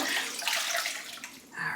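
Running water pouring steadily while a face is rinsed during a microdermabrasion exfoliation treatment, a continuous close splashing hiss with a brief dip before it resumes.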